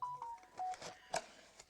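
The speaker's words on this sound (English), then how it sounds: "That is just my phone going." A mobile phone sounds a notification of short, faint electronic beeps and tones in a quiet room, with no talking.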